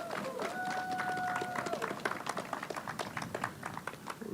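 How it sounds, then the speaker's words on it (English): Audience applause at a clean school bus ribbon cutting for Baltimore City Schools: a crowd's dense, rapid clapping rises after a brief tone and spoken voice, then continues steadily. "If we can give them a round of applause for making that happen today."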